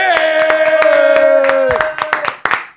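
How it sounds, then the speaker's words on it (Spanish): Applause and clapping greet a guest being welcomed at the start of a street-interview talk show, sharp bursts of hand claps over a sustained tonal musical sting, loud and close, fading out after about two seconds. "recibamos con un fuerte aplauso al duro de las entrevistas callejeras"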